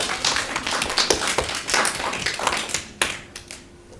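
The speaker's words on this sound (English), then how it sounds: "Let's give Alona a round of applause" A school audience claps for Alona, a young performer, at a morning assembly: a dense burst of many hands clapping close by, steady and lively before tapering off toward the end.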